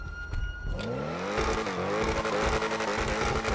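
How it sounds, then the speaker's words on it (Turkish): A modded car in the GTA 5 video game revs loudly and steadily, its engine note rising in pitch over a few seconds amid busy game noise, with no talking. "Arabanın sesine bak."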